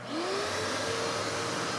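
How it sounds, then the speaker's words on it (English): Vacuum cleaner connected to a Tornado cyclone separator in a sandblasting workshop, running as a steady loud whine and rushing airflow with a rising tonal pitch near the start, alone throughout. "got a vacuum cleaner hooked up to the Tornado cyclone right there"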